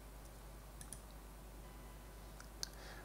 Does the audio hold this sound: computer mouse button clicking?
yes